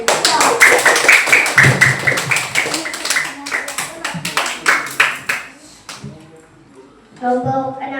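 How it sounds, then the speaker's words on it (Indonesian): Classroom applause for a student group, with a burst of hand clapping that fades after several seconds, followed by children and a teacher talking. "tepuk tangan untuk kelompok"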